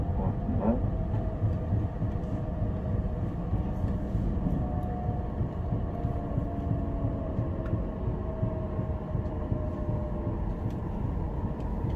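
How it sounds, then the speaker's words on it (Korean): Nurirho passenger train bound for Cheongnyangni pulling into Bongyang station, heard from inside as a steady, loud low rumble and rolling hum with faint squealing brake tones as it slows, no talking. "열차는 봉양역에 도착합니다."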